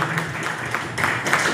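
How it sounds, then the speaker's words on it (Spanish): Audience applause for Padre Juan at a synod gathering of the Huancané Prelature, a steady wash of clapping that swells louder in the second half and carries through the whole short stretch. "fuertes aplausos, por favor."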